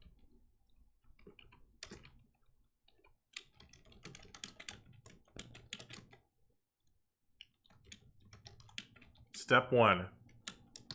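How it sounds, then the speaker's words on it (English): Bursts of keyboard typing come close and clear, clustered clicks with short pauses, and a brief spoken voice breaks in near the end. "I'm stopping the lecture so I can type this in."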